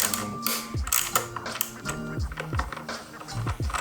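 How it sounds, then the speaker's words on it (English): A wrench ratchets a bolt on a Kawasaki ZX-10R motorcycle, rapid clicking pawl bursts in close, repeated strokes with short pauses between them. "because of the dash, I can't directly go onto that bolt, so I have to go get a wrench"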